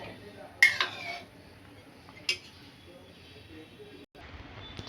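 A metal pot lid and pans clink while tamarind fish curry cooks: two sharp metallic clanks a couple of seconds apart over a low background hum, with a voice talking nearby.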